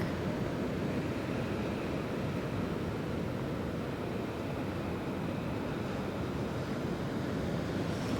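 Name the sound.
ocean waves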